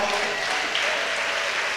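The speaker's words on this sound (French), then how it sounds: "On peut applaudir le Seigneur puissamment." A congregation at a French-language church service applauds in a dense, steady wash of clapping that stays even and fairly near for the whole short stretch.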